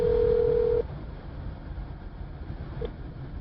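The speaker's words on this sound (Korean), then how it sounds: "곧바로 다시 전화를 걸었습니다." A single steady telephone tone sounds clearly for under a second during a phone call, followed by faint line hiss and a brief, weaker beep.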